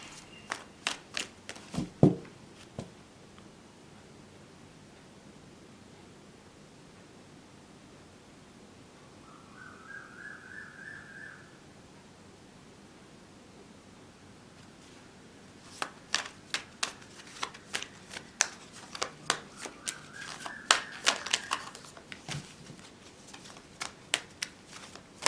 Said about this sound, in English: So give me a few seconds so that I can shuffle.